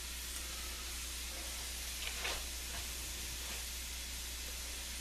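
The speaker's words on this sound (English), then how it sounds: "going to put the vegetables, and they're cooking up already" Vegetables for risotto sizzle in a hot pan, a soft steady hiss with a few brief louder crackles partway through, with a low hum underneath.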